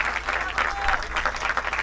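Applause from an audience thanked at the close of a seaside reading event, a steady patter of clapping that holds for the whole stretch at moderate level, with some talk mixed in.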